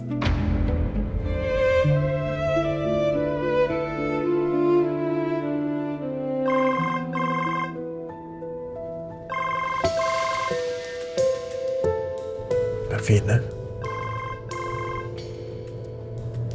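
A melodic phone ringtone plays alone and loud, looping its tune several times with a brief quiet gap and a sharp rustle near the end.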